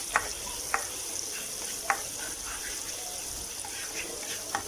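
Steady, quiet sizzling of chopped garlic sautéing in hot oil, with a few light clicks of a utensil stirring the pan.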